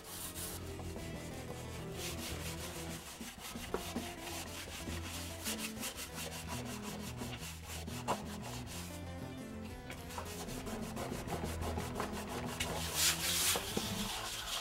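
Wax being scrubbed off a surfboard, including along the rail, giving a continuous rough rhythmic rubbing and scraping close by, repeated strokes with no talk.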